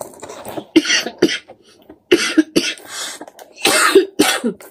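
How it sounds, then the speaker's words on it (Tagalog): Several sharp coughs in irregular bursts, close and fairly loud, with short pauses between them. "Oh, ubo."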